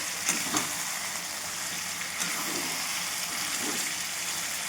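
Chicken pieces sautéing in hot oil over a spiced onion base, giving a steady close sizzle with soft stirring scrapes throughout, no voices.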